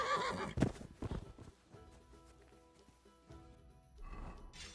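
A horse whinnies loudly up close in Kingdom Come: Deliverance II, followed by a few snorts and hoof clops, then quieter rustling before another burst of movement.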